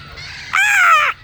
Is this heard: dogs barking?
no